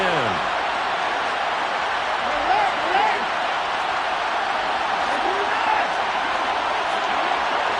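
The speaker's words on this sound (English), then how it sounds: "Crowd getting in it a bit already." Stadium crowd noise in a Madden football video game, a steady dense roar of cheering fans that swells slightly, with a commentator talking over it.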